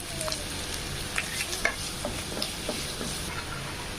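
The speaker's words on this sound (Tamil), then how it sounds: "வெங்காயம் நல்லா வதங்கிருச்சுங்க." Finely chopped large onions sautéing in a pan, a steady soft sizzle broken by light scrapes and taps of stirring, close and fairly quiet.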